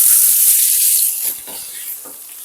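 Small pieces of boiled potato drop into hot tempered oil with a loud, bright hiss that quickly settles into a softer sizzle, broken by a few stirring clacks, with no voices.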